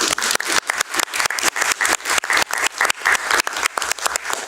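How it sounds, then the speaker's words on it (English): Audience applause at a school board meeting, loud, close clapping in a brisk irregular rhythm that carries on steadily throughout. "let's give them a round of applause"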